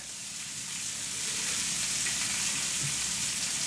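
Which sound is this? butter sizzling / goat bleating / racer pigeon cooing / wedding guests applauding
butter sizzling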